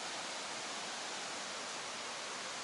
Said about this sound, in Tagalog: So, ito yung Tinuy-An Falls sa Surigao